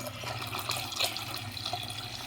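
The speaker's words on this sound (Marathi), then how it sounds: "आता यात मी गरम पाणी ओतणार आहे" Hot water poured over sabudana (tapioca pearls) that were already rinsed a few times, giving a soft, steady trickle and splash of liquid into a bowl, quiet and close.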